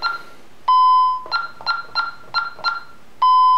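A Honeywell alarm panel sounds during disarming: a long steady beep, then a string of six short keypad beeps in quick succession, and another long beep at the end, clear and close with no voice.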